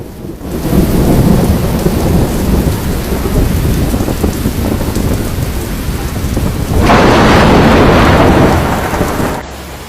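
Heavy rain pours down hard and steady during a thunderstorm in Split, Croatia, with deep rumbling thunder under the downpour and a louder surge of rain near the end.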